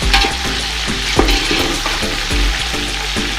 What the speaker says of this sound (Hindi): और इसे भी साथ ही फ्राई करेंगे।